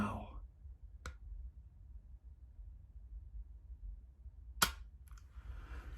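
During dry fire practice, a pistol gives two sharp, isolated trigger clicks several seconds apart in an otherwise quiet room, with faint rustling afterward.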